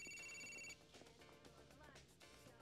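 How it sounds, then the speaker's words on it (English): A telephone rings once in Grand Theft Auto IV, a bright electronic trill lasting under a second, then gives way to quiet game ambience and faint voices. "The phone's ringing."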